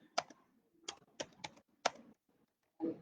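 A table name is typed on a computer keyboard during a database programming session: about half a dozen separate keystroke clicks in an uneven rhythm, close and fairly quiet, with no talk.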